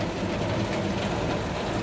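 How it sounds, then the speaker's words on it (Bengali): Heavy rain drums on a tin sheet over a window outside, a steady close patter with a dense, even rush throughout the short moment. "দেখো বাইরে কিরম বৃষ্টি হচ্ছে, আওয়াজটা বুঝতেই পারছো"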